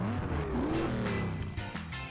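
Dune buggy engine in the Beach Buggy Racing video game, driving over sand: a steady, loud motor drone with rising and falling pitch as it revs, continuous throughout with a few brief higher accents.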